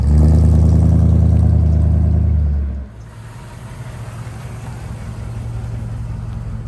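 A 1962 Chevrolet Impala is driven, its engine a loud low rumbling drone that eases to a quieter steady hum about halfway through, close with no talk.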